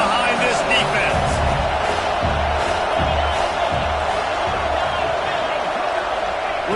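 A football stadium crowd roars steadily through a third-down play, a dense wash of cheering and whooping that holds from start to finish, with voices scattered through the din.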